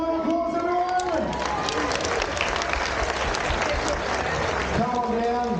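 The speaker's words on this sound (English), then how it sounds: "Let's give him a nice big round of applause, everyone." A crowd applauds steadily at an outdoor car stunt show at Movie World, the clapping dense and sustained, with an amplified announcer's voice talking over the start and end.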